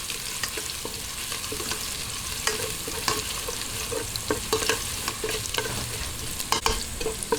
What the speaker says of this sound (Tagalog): isunod na po natin itong luya. Ayan, halo-halo lang.